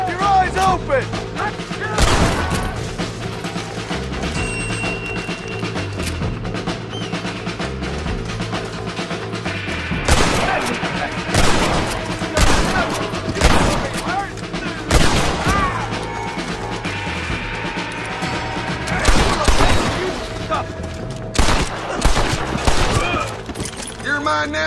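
Repeated bursts of gunfire in the Red Dead Redemption 2 video game crack out over a cinematic music bed, with loud shots clustered in volleys and in-game character voices shouting between them.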